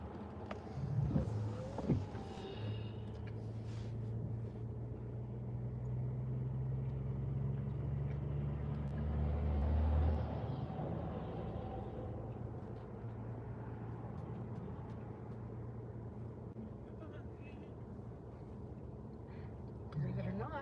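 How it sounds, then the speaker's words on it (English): A car drives through town traffic, with a steady low engine and road rumble inside the cabin, a passing vehicle swelling briefly midway, and quiet talk over the drone. "Believe it or not, traffic's busy."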